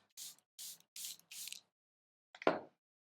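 A spray bottle of makeup setting spray fires four quick, evenly spaced hissing bursts, followed after a pause by a softer, fumbling spritz and a brief handling noise, all close and quiet.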